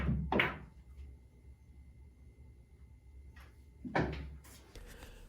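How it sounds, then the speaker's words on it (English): On a pool table, a cue ball is struck and rolls down the long rail, with a sharp knock at the start, a quiet low rumble of rolling, then another cluster of clacks as balls meet. "line the cue ball up with the others, and shoot down the long rail to see what happens"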